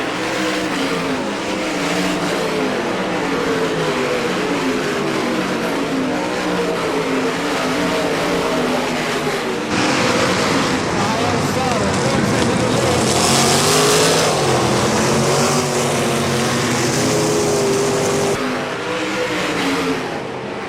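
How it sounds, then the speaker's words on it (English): Race cars at a Great Lakes Thunder event roar around the track in a loud, continuous engine drone with shifting pitch as they accelerate through the corners and pass, heard close under an announcer's commentary. "Robinson with the lead down the back straightaway, but Sauter strong in turn 3 and will make the pass"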